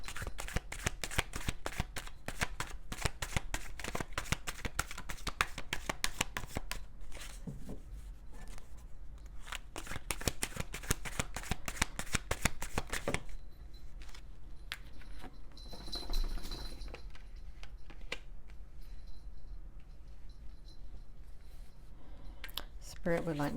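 Tarot cards are shuffled in rapid, dense riffling bursts, close and crisp, then pause before lighter, sparser shuffling resumes, with a voice talking at moments.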